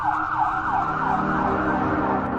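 An ambulance siren wails continuously in a rhythmic rising-and-falling cycle, loud and close, with a low vehicle rumble beneath it and no voices.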